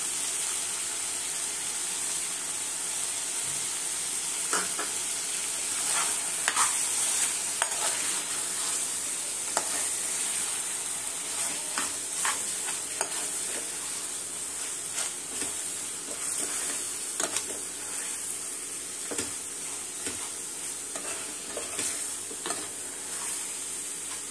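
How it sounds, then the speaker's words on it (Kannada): Onion paste for a Mandya-style chicken gravy frying in a pan, a steady soft sizzle with repeated scraping stirs of a spoon throughout, fairly quiet and close, with no talking. "ಈಗ ಈರುಳ್ಳಿ ಪೇಸ್ಟು ಹಾಕ್ತಾ ಇದ್ದೀನಿ."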